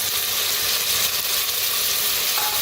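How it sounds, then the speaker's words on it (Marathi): Coriander, tomato and peas roast in a hot pan with a steady, loud sizzling hiss and faint stirring, continuous throughout with no talking. "सगळे भाजून घेऊया."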